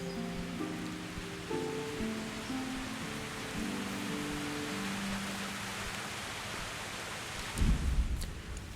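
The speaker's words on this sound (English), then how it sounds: "It's raining too." Steady rain hisses in the video game Kingdom Come: Deliverance, a soft continuous wash under quiet tonal music, with a brief louder rumble near the end.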